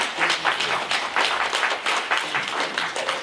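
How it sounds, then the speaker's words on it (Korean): Seminar audience applause rings out in a hall, a lively burst of many hands clapping briskly for a few seconds at close range, with no speech. "시작이니까 박수로 한번 받아주시죠"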